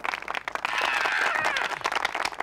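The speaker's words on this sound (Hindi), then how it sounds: "कई बार जोरदार तालियां हो जाए।" An audience at a comedy show breaking into applause, a dense patter of clapping that swells and holds steady over a couple of seconds.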